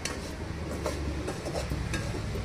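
Semolina roasting in a pan on a low flame for rava laddu gives a dense, close, grainy rustle and scraping as it is stirred, with a faint sizzle underneath and no voices.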